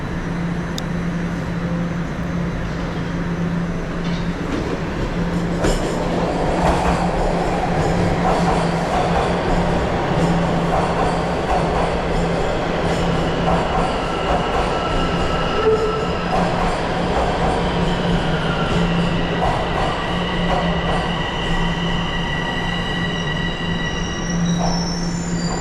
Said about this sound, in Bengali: আসছে ট্রেন, দরজা খুললো, ভেতরে ঢুকলাম।